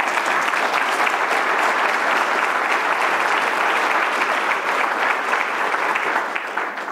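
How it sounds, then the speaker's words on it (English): A large audience at a governor's address applauds guests in a dense, steady wash of clapping that holds loud throughout and eases slightly at the end. "Give them a hand."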